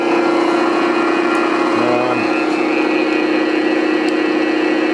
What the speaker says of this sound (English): It's this pulse motor.